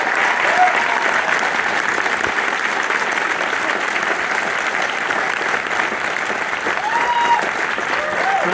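Sustained, dense applause from a post-screening festival audience, honoring Ali Houston, steady and loud throughout, with a few faint voices rising over the clapping.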